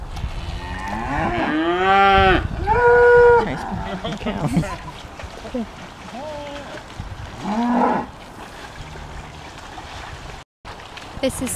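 Cows moo loudly and repeatedly at close range as a herd comes down to a stream to drink, the long harmonic calls rising and falling among splashes and quiet outdoor background.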